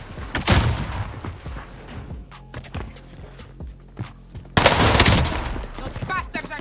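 Rapid gunfire in the Warzone battle royale shooter, with bursts and scattered single shots throughout and a louder, denser volley near the end, loud and close amid other game sounds.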